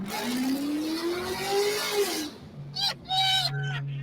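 A Chevy Impala SS engine revs up loudly, pitch climbing and then dropping, followed by a short burst and another hard rev close by.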